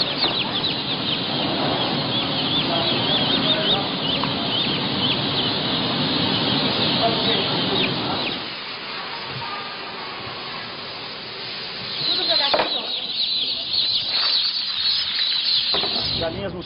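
Caged hens in a conventional poultry facility cluck, squawk and flap their wings loudly and continuously at close range, with the flurry easing midway before picking up again.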